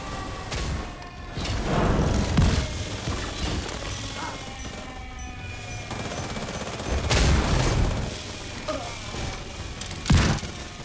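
Gunfire in The Division 2 shooter game, with bursts of shots and crashing impacts over a steady noisy battle bed, louder surges near the start, middle and a sharp hit near the end.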